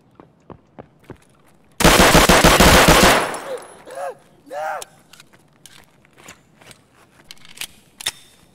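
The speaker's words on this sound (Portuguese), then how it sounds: "Estão atirando no bagulho de cima ainda, por cima." Automatic gunfire in the multiplayer shooter game Incursão rips out as one loud, sustained burst lasting over a second, surrounded by quieter clicks, footstep-like taps and a few short voiced sounds.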